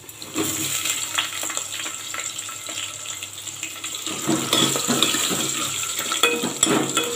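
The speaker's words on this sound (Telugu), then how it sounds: "ముందుగా ఆలుగడ్డలు వేస్తున్నాను." Potatoes go into a cooking pot for a vegetable sambar, with wet clattering and splashing under steady kitchen water noise, no talking.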